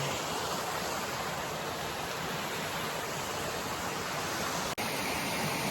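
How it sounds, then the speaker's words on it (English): Dense, continuous rushing of falling water fills the scene at a steady, loud level, with no voices over it. "Another waterfall."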